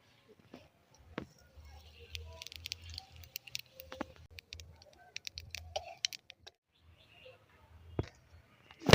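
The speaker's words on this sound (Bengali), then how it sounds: "এবার ফোড়নে দিয়ে দেবো গোটা জিরে।" Whole cumin seeds crackle and pop in hot mustard oil, giving scattered sharp sizzling ticks at close range over a quiet background, ending with a louder clatter.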